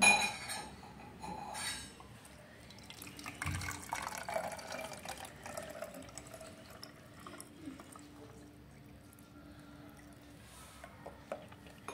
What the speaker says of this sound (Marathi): पाणी भरून घेते मी पूर्ण.